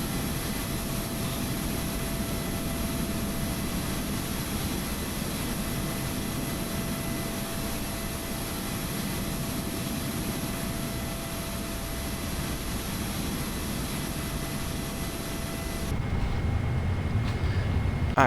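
Steady, broad whine and rumble of a PMDG 777 auxiliary power unit running on the ground in Microsoft Flight Simulator 2024, continuous and loud with a faint steady tone, no talking.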